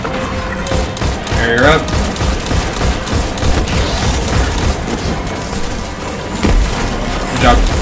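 Sustained gunfire in Destiny 2 during a Master Nightfall strike, a dense mix of rapid shots and thumping blasts throughout, with players talking over the firefight.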